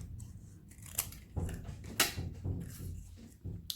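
Scissors cut a small piece off a paper envelope flap for a gusseted envelope pocket craft, giving a few close, crisp snips at a quiet level.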